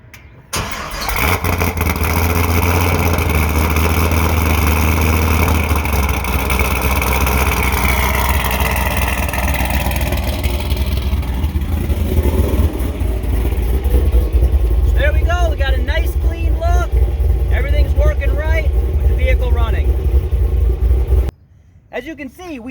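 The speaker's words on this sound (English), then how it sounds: "So we have to fire up the car," A car engine starts with a loud rumble and settles into a steady idle, close by, with a voice speaking briefly near the end.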